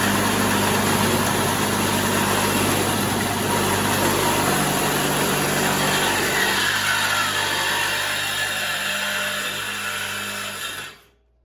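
A DeWalt DCS386 FlexVolt saw fitted with a DeWalt blade cuts through metal with a loud, steady, grinding whine that holds for about ten seconds and then cuts off abruptly.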